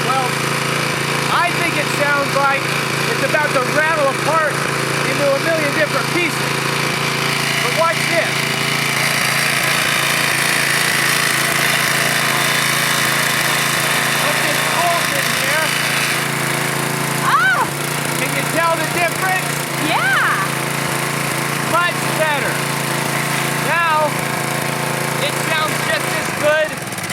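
A cheap $30 pressure washer engine from 2002 running continuously with a rough, rattling chug, close and loud, while a person talks over it throughout.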